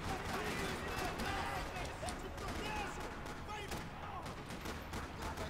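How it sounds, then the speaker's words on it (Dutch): Rapid bursts of gunfire rattle in a Max Payne 3 game scene, fairly quiet and continuous, with overlapping shots. "Rattling with gunfire."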